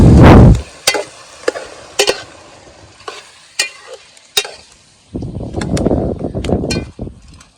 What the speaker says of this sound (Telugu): తగినంత పసుపు అయితే వేసుకోవాలి కాసేపు బాగా కలర్ వచ్చేలాగా కలపాలి